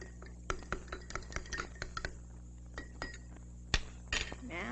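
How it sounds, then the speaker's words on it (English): A spoon stirring a solution in a glass, a quick run of light clinks against the glass with a few louder knocks, close and fairly quiet, over a low background hum. "Stir it up."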